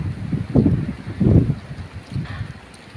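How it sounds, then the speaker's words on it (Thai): Strong cold winter wind in Israel buffets the microphone in heavy rumbling gusts, swelling and easing a few times over three seconds with no voices. "ฟังเสียงลมนะครับพี่น้อง"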